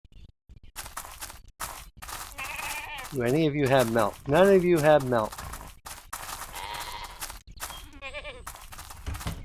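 A goat bleats several times up close, loud wavering cries that rise and fall, with a person talking between the calls.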